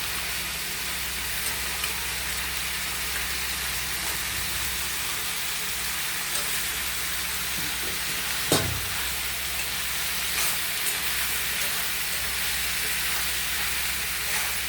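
Brinjal pieces frying with onions in hot oil for kathrikai chops, a steady dense sizzle throughout with an occasional stirring scrape, close and continuous, no voices.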